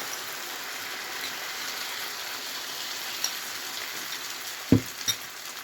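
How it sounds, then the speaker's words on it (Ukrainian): A steady, close sizzling hiss of egg pancake batter frying in a hot pan, with a couple of soft clicks near the end. "І на розігріту сковорідку буду виливати"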